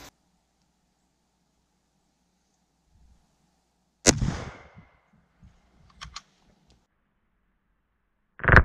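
A single sharp, loud crack of a .17 HMR rifle firing CCI A17 ammunition into ballistic gel, after near silence. A few faint clicks follow, and a second abrupt burst comes at the very end.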